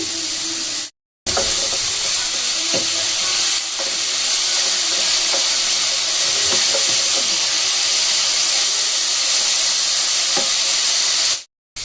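Beetroot, carrots and other vegetables fry in a pan, a steady close sizzle with scattered stirring scrapes and clicks, broken by a brief silence near the start and end.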